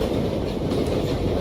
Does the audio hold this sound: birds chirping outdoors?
no